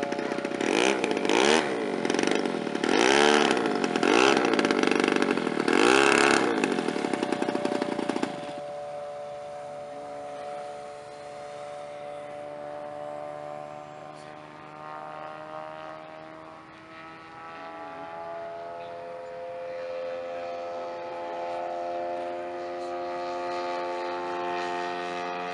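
Engine of a 60% scale JR customized Hempel Cub RC model airplane at an air show, a loud steady droning roar with wavering pitch that drops sharply to a quieter, smoother hum as the throttle is pulled back and the plane moves off.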